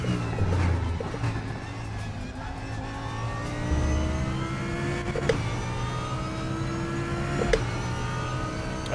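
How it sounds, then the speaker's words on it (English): Super Tourer race car in the RaceRoom sim at Brands Hatch, engine revving and shifting through gears with rising and falling pitch, heard from onboard, fairly quiet and steady. "Super Tourers are my favourite in Raceroom right now."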